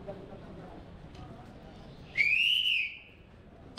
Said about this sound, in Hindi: विसल बज गई है और आगे अलार्म कर दिया गया है।